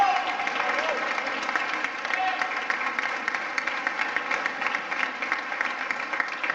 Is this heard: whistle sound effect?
no